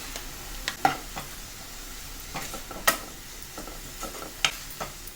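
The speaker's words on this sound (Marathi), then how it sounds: "व्यवस्थित परतून घ्यायची आपल्याला ही भाजी." Fenugreek greens with garlic cook in a pan under a faint, steady sizzle, with scattered spoon clicks and scrapes as the greens are stirred.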